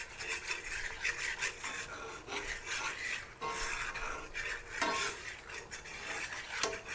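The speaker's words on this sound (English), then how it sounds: "we're going to stir this some more because we don't want it to burn" A spoon scrapes and stirs dark roux in a pan for homemade brown gravy, a continuous rasping, rubbing sound with steady strokes close up and no talking.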